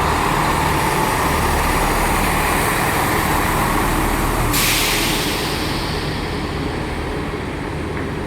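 A class 158 diesel unit, 158845, departs Nottingham station for Leeds, giving a loud, steady engine drone with a hiss that cuts off partway through, and no talk.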